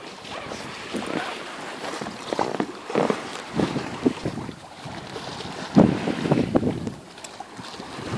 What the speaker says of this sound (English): just the gentle waves against the bow